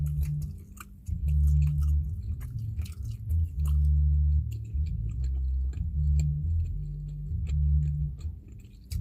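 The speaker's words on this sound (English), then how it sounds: "that piece of steak is a little chewy." Close mouth sounds of someone chewing steak while eating lobster, steak and rice: wet, crunchy chews and bites repeat steadily over a low background hum.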